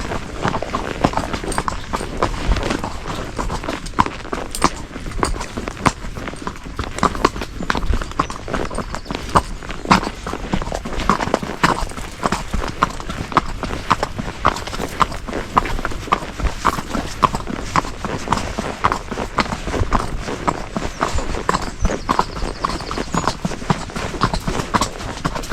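Horse hooves clip-clopping steadily outdoors on an outing away from the city, a continuous rhythmic patter of hoofbeats close by over a broad background wash, with faint voices at times.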